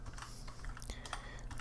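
Typing on a computer keyboard, quick close clicks of keys in a brisk run against a steady room hum, no talking.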